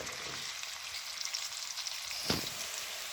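Onions frying golden in a pot for vegetable pulao, a soft, steady sizzle of oil with light crackles and one brief clink of a spoon, close but fairly quiet, no voices.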